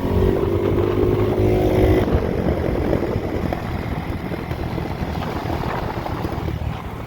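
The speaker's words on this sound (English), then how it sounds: "Listen to that backfire." X-Pro 150cc Bali motorcycle engine running with a steady rough drone and gritty crackling pops, close and loud, with heavy wind buffeting on the microphone and no talk.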